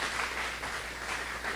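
A church congregation claps together in a brief, steady burst, many hands blending into an even wash at moderate distance with no speech.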